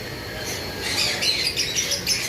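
Shrill squawks and chirps from several pet pineapple conures and cockatiels close by, rising in the second half over a steady background hum.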